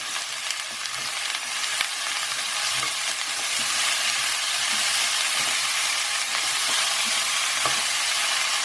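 Cauliflower seasoned with turmeric and salt is stirred through a hot pan, giving a steady, close broadband sizzle for about nine seconds, broken by faint scraping taps of the spoon.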